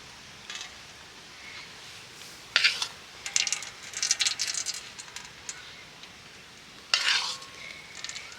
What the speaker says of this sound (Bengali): এবার আমি ছাঁকনির সাহায্যে একটু ছেঁকে নেব